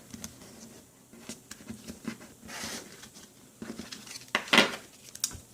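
Tarot cards being shuffled by hand indoors, quiet soft riffling and papery slaps in irregular bursts, with a sharper louder flick near the end.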